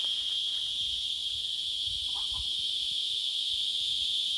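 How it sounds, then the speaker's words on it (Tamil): A continuous loud insect drone, attributed to a beetle on a farm in Andhra, fills the clip steadily and evenly from start to finish, with no voices. "இது ஒரு வண்டோட சவுண்டாங்க."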